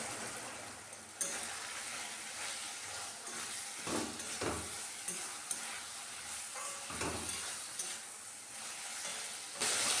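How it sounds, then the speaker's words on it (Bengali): Ground spices sauté in a pan for a Bengali chana dal and paneer dish, a soft continuous sizzle with occasional stirring scrapes and clicks, fairly quiet and close. "মশলাটা 5 মিনিট কষিয়ে নেব"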